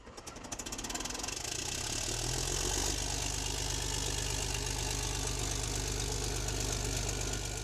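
An AMX Leclerc main battle tank's engine starts up, rising within a second into a loud, steady, rumbling idle with a constant mechanical hum, heard close and alone with no talking.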